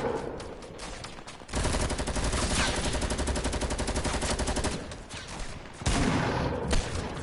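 Video game gunfire: sustained rapid automatic bursts, loud and dense, with short pauses between volleys and no talking.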